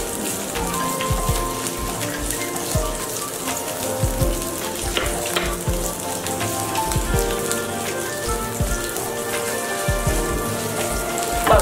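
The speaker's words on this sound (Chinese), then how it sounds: "油热后放入姜蒜爆香" Ginger and garlic sizzle in hot oil in a clay pot, a steady, dense crackling and spitting with occasional sharper pops, close and continuous throughout.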